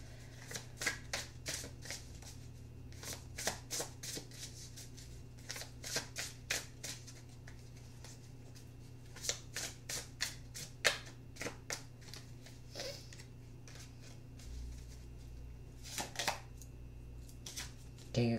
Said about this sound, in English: Get some clarifying cards for Sagittarius.